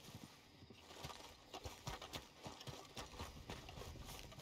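A horse gallops in the Red Dead Redemption 2 video game, quick repeated clip-clop hoofbeats at moderate distance, fairly faint, alone without talk.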